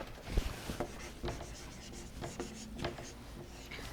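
Pen or pencil writing on paper, with soft scratchy strokes and small taps that come in uneven bursts, close and quiet.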